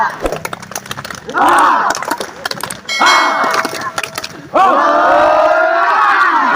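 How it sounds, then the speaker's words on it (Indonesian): SMKN 1 Rongga students clap in a quick, rhythmic burst, then erupt into loud, sustained cheering and chanting voices that fill a large room or hall, close and energetic. "Tepuk tangan"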